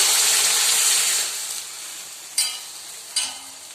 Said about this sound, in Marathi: साधारण दीड ग्लास पाणी तुम्हाला त्यामध्ये टाकायचं आहे